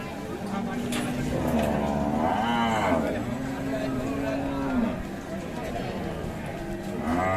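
Bullocks at a busy cattle market in Bangladesh let out a low, drawn-out moo among steady crowd noise, with people talking close by throughout.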